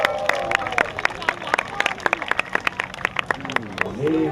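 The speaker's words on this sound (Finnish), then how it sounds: "Se vaatii aplodin." Scattered hand claps from a crowd at a cardboard boat race go on for a few seconds while a voice talks over them.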